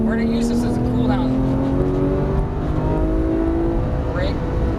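A Porsche 991 GT3 pulls out of a corner on the Auto Club race track, engine note climbing steadily and loud under full throttle, with a driver talking over the rising howl.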